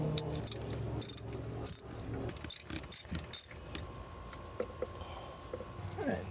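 A ratchet works loose small 10 mm bolts on a Freightliner DD13 engine's air intake. Several short, loud bursts of rapid clicking come close by, with quieter fiddling sounds between them.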